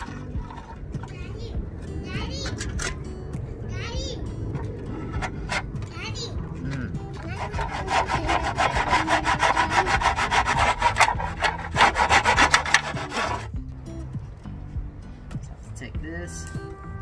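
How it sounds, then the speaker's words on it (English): A handsaw cuts wooden dowels to size for a DIY transparent van sunshade, with steady rasping back-and-forth strokes that grow louder and quicker in the middle, close by, with some voice and background noise mixed in. "I'm laying down the dowels just to get a measurement and to cut it down to size."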